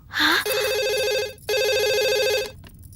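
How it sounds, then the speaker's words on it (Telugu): Two bursts of electronic telephone ringing, each about a second long with a short gap between, loud and close, with no voices. "తల్లి గుర్తుకొచ్చి పబ్లిక్ ఫోన్ నుంచి అబ్బాయి ప్రైవేట్ గా ఫోన్ చేస్తాడు"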